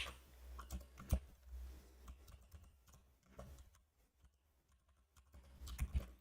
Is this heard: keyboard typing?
yes